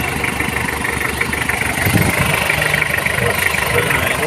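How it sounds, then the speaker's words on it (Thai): A Toyota LN106 4x4 pickup with a rigid front axle idles steadily nearby, a constant mid-low engine rumble with mechanical vibration that holds even throughout. "คันนี้ติดเครื่องอยู่นะครับ"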